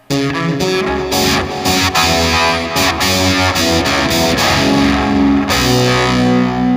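Heavily distorted Strat-style electric guitar, built from a Guitarfetish body and StewMac neck, playing loud, gritty chords and notes, continuous and up close with no talking.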